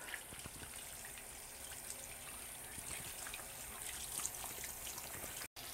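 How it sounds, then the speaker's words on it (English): A tap runs steadily into a sink during handwashing, giving an even, moderately quiet stream of water with light splashing and no talking. "I'm leaving the water on because you don't want to turn it off the handles with your clean hands"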